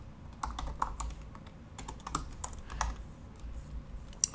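Someone types on a computer keyboard in short, irregular bursts of close, crisp keystrokes with brief pauses between them, set against a quiet background.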